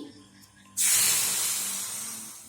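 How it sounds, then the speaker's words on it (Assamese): Water hits a heated wok on a gas stove and erupts into a sudden loud hiss of steam that then fades slowly, close by, preceded by a quiet moment with no talking. "কেৰাহীখন গৰম হৈ গৈছে, এতিয়া দি দিম অলপমান পানী।"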